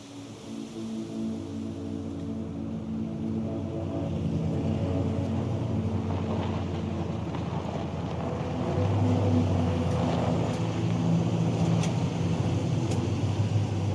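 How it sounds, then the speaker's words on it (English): A vehicle engine rumbles steadily with a faint crackle as it fades into a forest in the video game Tell Me Why. The low drone holds throughout and swells slightly toward the end, with no talking. "You can just hear the crackle of the engine as it dissolves into the forest."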